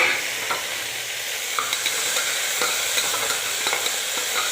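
Tomatoes frying in a pan for bottle gourd chutney: a steady bright sizzle with light stirring clicks and scrapes at intervals, close and fairly loud, with no talk.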